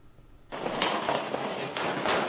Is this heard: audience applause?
no